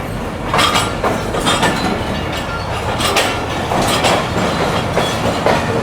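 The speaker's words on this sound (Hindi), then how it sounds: "बराबर में भी कोई ट्रेन आ रही है जी" A train rolls into a station on the adjacent track, loud and close, with continuous rumble, clattering wheel clicks and occasional squeal, no voices.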